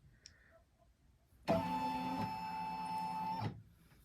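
An embroidery machine starts quilting a Kimberbell December pillow panel, a sudden close mechanical whir with a steady motor tone running for about two seconds before stopping, with no talking.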